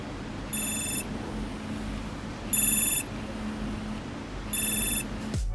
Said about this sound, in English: This will make your Garmin fitness tracker or smartwatch ring and vibrate.